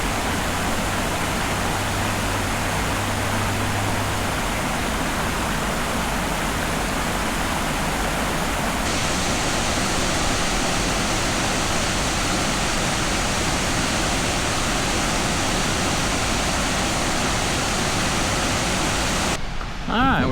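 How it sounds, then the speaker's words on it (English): Steady, dense rushing water roars continuously and loudly at Remsen Falls, a nearby waterfall, with no pauses. "we are now at Remsen Falls"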